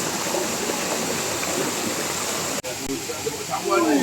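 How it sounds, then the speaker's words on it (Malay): Fast-flowing river water at Lata Perahu near Kuala Kangsar rushes in a steady, loud broadband wash like a stream or waterfall, holding constant for the length of the clip, with a brief dropout and a faint sound near the end. "Kat sini air sungai dia lebih deras."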